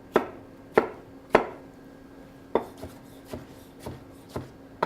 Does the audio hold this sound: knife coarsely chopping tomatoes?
yes